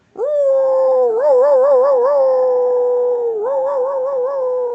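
A person imitates a wolf howl by voicing it on an inhale, producing one loud, sustained, wavering howl that rises, trembles and holds steady for several seconds, close and alone.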